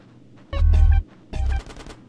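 Two short bursts of rapid gunfire in GTA San Andreas during the Reuniting The Families mission, loud and close, separated by a brief pause.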